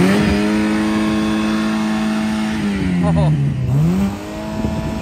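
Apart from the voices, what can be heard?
Pontiac stick-shift car engine revving during burnout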